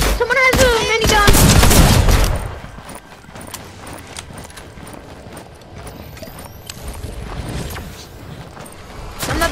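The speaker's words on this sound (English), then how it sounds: "Someone has a minigun!" Minigun fire in a video game battle around a castle: a loud burst of rapid gunfire in the first couple of seconds, then quieter scattered shots and clatter, with a voice briefly audible.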